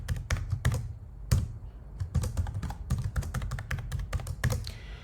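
Someone types a password on a computer keyboard, with quick irregular bursts of close, crisp key clicks and short pauses between them.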